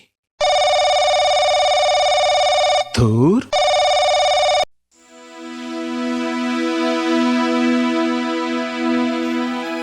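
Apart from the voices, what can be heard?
phone ringing, then call cut off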